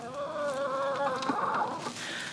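Chickens clucking close by, a rising run of clucks and squawks from one or more hens, fairly loud, with no talk.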